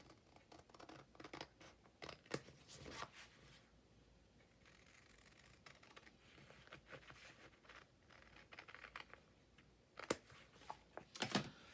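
Scissors cut down a small paper piece for a craft project: faint, scratchy snips and rustles in scattered bursts, with sharper clusters near the start and end and no talking.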